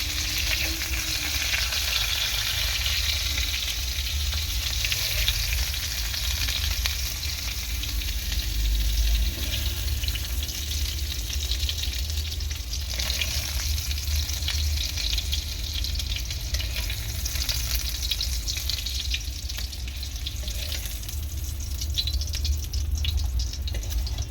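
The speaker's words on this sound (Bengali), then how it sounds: "পটলটা ভাজা হয়ে গিয়েছে, আমি আর বেশি ভাজবো না, তো আমি তুলে নেব।" Slices of pointed gourd (potol) fry in oil in a Bengali home kitchen, a steady close sizzle and crackle with occasional stirring that runs throughout without any talking.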